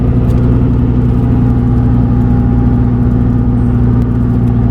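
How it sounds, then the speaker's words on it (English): Turbocharged engine with 8-to-1 compression running on about 8 pounds of boost in a Nova, a loud steady droning hum with strong low harmonics, close and sustained without variation. "that is an 8-to-1 motor on like 8 pounds of boost"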